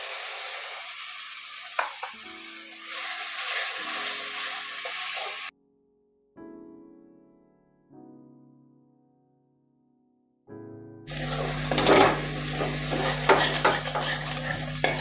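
Tomato paste and fish masala for a rohu curry being stir-fried in a pan, with a thick sizzle and repeated scraping, clinking spatula strokes in separate cut sections, a silent stretch in the middle and a louder, busier passage at the end.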